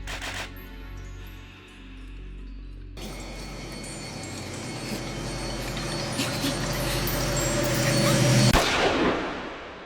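A gunshot scene from the anime Steins;Gate, with a loud sharp burst near the end rising out of dense dramatic background sound and music that build steadily before cutting off.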